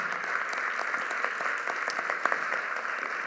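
An audience at a school district State of Schools event claps in steady, sustained applause that fills the hall evenly throughout, with no voices over it.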